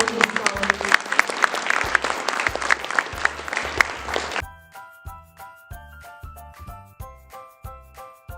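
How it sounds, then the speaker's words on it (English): Dense clapping from an audience at a school honor roll awards ceremony for scholars, lasting about four seconds before cutting off, then soft rhythmic music with a steady low beat continues alone. "Big round of applause for all of these scholars."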